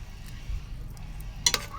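A spoon stirs stockfish, a seasoning cube, chopped onion and pepper in a pot for Nigerian egusi soup, low and soft, ending in a couple of quick metallic clinks.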